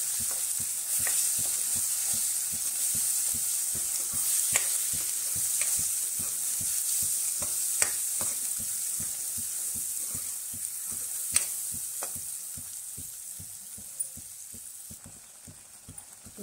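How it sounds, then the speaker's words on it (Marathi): Crab curry masala paste frying in hot oil for a village-style Marathi crab curry: a steady, close sizzle punctuated by regular, rhythmic scrapes of a stirring spoon throughout. "वाटण चांगला तेलावर शिजवून घेऊ."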